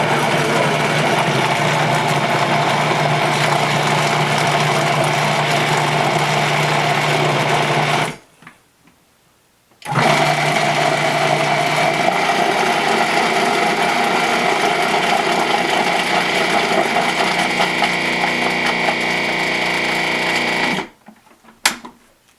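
A blender motor mixing whipped cream and lemon curd gives a loud, steady whine that runs, cuts out briefly, runs again for a long stretch and then stops.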